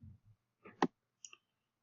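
Several computer mouse clicks come while checkboxes are placed in PDF Escape, a handful of short sharp taps spaced irregularly in near silence, close and crisp.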